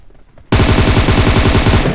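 Rapid automatic gunfire in a squad shooter video game erupts abruptly after a short quiet moment, a loud, fast, evenly spaced burst of shots that runs without pause to the end.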